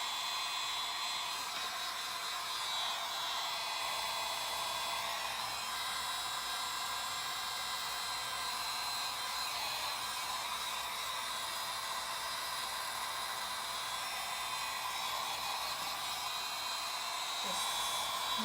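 A hair dryer blows continuously on freshly applied paint, a loud, steady high-pitched whirring rush that runs unbroken throughout, with no talking.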